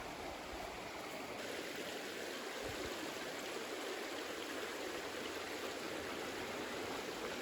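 Creek water flowing steadily at a campsite, a continuous broadband rush that stays even and close throughout with no voices.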